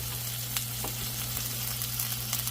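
A pork ribeye steak sears in butter in a pan, giving a faint, continuous sizzle with small pops over a low steady hum, with no voices.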